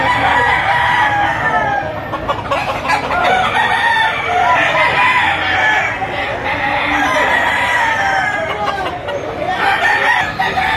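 Roosters crow loudly and repeatedly over clucking chickens at a chicken auction market in Lipa, with several birds overlapping close by and a voice briefly in the background.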